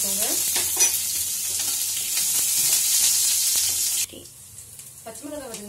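Chopped green chilies sizzle and crackle in hot oil with popped mustard seeds while being stirred, then the frying drops away and a voice briefly speaks.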